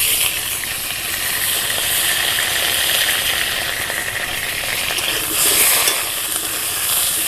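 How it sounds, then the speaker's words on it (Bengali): Potatoes frying in mustard oil in a hot wok give a steady, close sizzle with stirring scrapes, continuous throughout with no voices. "এবার আমি এর মধ্যে সরিষার তেল দেব আলুগুলো ভাজার জন্য। এবার আলুগুলো দিয়ে দেব।"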